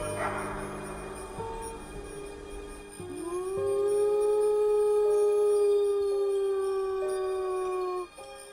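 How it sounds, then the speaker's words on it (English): Wolves howl in the wild, first a mix of overlapping voices, then one long, steady, rising howl that holds for several seconds with other howls layered faintly beside it before it cuts off. "Wolves howl at any time, day or night, sometimes in response to a distant sound, sometimes to check on one another."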